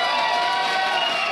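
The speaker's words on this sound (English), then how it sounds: "as the crowd goes wild" Crowd at a League of Legends esports match cheering loudly, a dense sustained roar of voices filling the short stretch.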